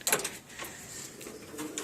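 Pigeons at a pigeon sale coo softly in short throaty bursts, fairly close, with a few sharp rustles and knocks mixed in and no talking.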